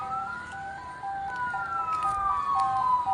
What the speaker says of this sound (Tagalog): Ito yung pang-apat na bumbero.